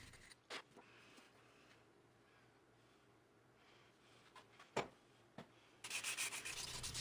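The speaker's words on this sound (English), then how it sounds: "I was on to quite a bit of hand sanding with it." Quiet hand sanding of an epoxy and redheart wood knife handle, soft scattered rubbing strokes with a few sharper scrapes, then a louder burst of steady abrasive rubbing at the end.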